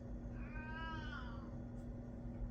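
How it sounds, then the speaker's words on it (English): A cat wanting to be let in gives one drawn-out meow at moderate distance, over a low steady hum indoors. "Hold on, my cat wants in."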